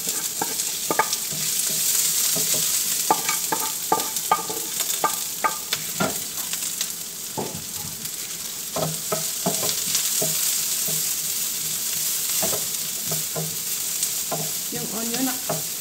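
Chopped onion sautés with garlic in a hot pan for macaroni béchamel, giving a steady loud sizzle throughout with frequent clicks and scrapes of a spatula stirring.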